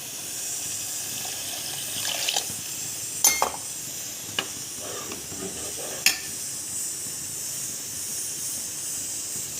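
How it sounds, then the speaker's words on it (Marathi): Water poured into a pot of simmering spicy sar rassi curry gives a steady close hiss and rush, with a few short sharp splashes and clinks scattered through. "आणखी पाणी टाकूया"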